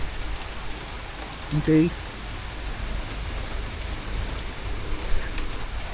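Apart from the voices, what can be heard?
heavy rain pouring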